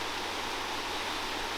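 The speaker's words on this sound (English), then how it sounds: "it's amazing how water flows from many different parts of the former site." Water flowing steadily in a stream across a former iron works site, a continuous broadband rush heard close and alone with no voices.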